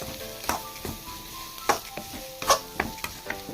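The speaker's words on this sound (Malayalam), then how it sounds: "നമുക്ക് വേവിച്ചിട്ട് ഉരുളക്കിഴങ്ങിട്ട് ഉടച്ച് നല്ലോണം എല്ലാം കൂടെ മിക്സ് ചെയ്യാം." Boiled potatoes being mashed and mixed with masala filling in a pan for masala dosa, heard as scattered soft thuds and scraping strokes of a spoon, close and fairly quiet, with no one talking.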